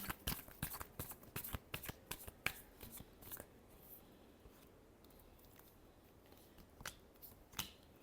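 Tarot cards being shuffled close up in rapid bursts of crisp riffling clicks, busiest early on and thinning into sparser taps toward the end, with no talking.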